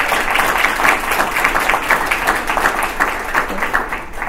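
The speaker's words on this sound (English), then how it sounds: "Let's give them a big round of applause." Applause from a conference keynote audience, steady, dense clapping from many hands that carries on evenly at moderate loudness throughout, with no talking over it.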